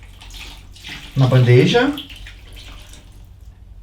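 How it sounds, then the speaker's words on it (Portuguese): Room-temperature tap water is poured into a shallow tray, giving a short, loud splashing gush that rises and fades within about a second, while a voice speaks over it. "Eu vou adicionar mais água aqui um pouquinho, ela está rasa a bandeja."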